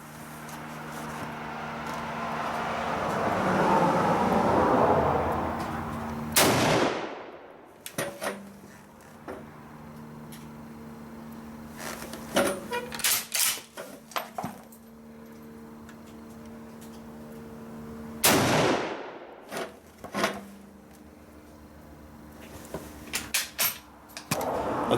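A Swiss K31 rifle fired twice while being zeroed on a range: two loud, sharp reports about twelve seconds apart, each with a ringing decay, and lighter mechanical clicks between them.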